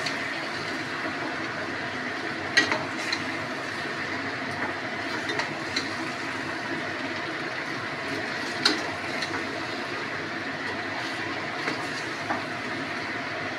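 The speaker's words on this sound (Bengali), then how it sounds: "এবার বেশ ভালো করে নাড়িয়ে চাড়িয়ে এবার কষাবো।" Mutton fat frying and being stirred in a pan, producing a steady, dense sizzle throughout with occasional faint clicks of the stirring utensil, close and continuous without talking.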